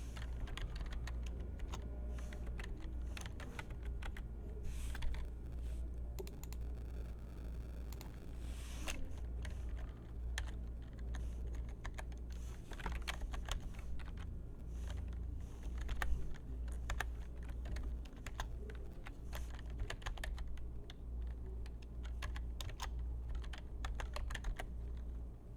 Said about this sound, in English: So I'm going to type all this in, then divide by 365.